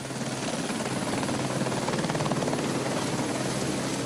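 Helicopter in flight carrying mining equipment, a steady loud rotor drone with rhythmic chopping throughout, no talking.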